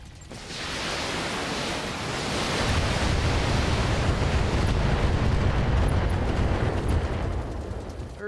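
Long-range missiles streak toward a quad medium laser turret in a MechWarrior-style mech combat game, a broad rushing roar that swells and holds as a dense explosive barrage for several seconds.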